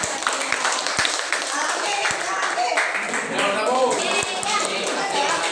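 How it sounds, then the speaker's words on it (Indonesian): Classroom students clap their hands in a brief burst of scattered, uneven claps, mixed with chatter and children's voices in the room. "Oke, tepuk tangan."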